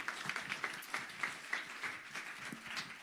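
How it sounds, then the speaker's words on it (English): A conference audience claps for a speaker at an AI agents event. The applause is faint and thin, a light patter of evenly spaced claps from across the room, with no voices. "ladies and gentlemen, can you please give Andrew a big round of applause?"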